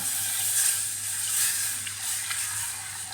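Madeira sauce thickened with starch hisses and sizzles in a hot pan while being stirred, a steady bright frying hiss with faint scraping, close and fairly loud.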